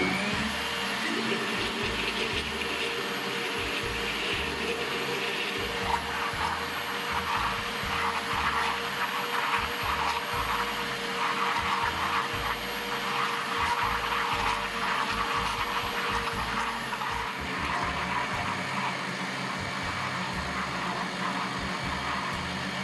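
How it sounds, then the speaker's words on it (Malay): Electric blender whirring steadily as pandan kuih bakar batter is blended until smooth and frothy, a loud continuous motor drone with a high whine throughout, no talk. "Okey, kita blend sehingga sebati dan berbuih beginilah."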